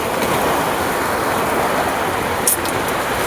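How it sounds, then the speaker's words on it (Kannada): Heavy rain pours steadily and loudly, a dense unbroken roar close by, with a few brief brighter splashes partway through and no talking. "ಬಂತು ಫುಲ್ ಮಳೆ ನೋಡಿ ಗಾಯ್ಸ್"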